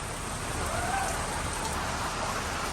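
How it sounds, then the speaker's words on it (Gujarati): Steady, dense rain patters continuously on surfaces at a rainforest resort in Matheran, an even hiss of drops with no break. "રેન આવી ગયો"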